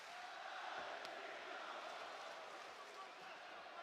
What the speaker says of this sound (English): Crowd voicing its early support for the champion, Shevchenko.